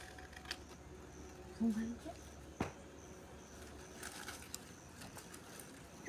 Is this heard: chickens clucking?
no